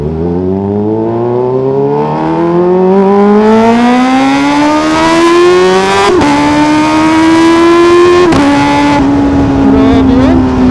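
Kawasaki ZX4RR motorcycle with a loud full-system exhaust revving up in long rising sweeps, pitch climbing steadily with brief drops at each shift, close and loud throughout.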